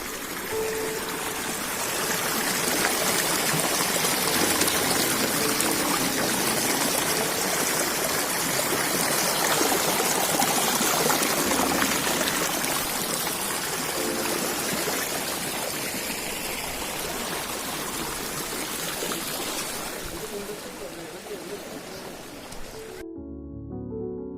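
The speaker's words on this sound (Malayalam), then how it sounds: "വെള്ളത്തിന്റെ സൗണ്ടാണ്" The swollen Vilangad river rushes past after a flood, a loud, steady broadband roar of flowing water that continues unbroken before cutting off abruptly near the end.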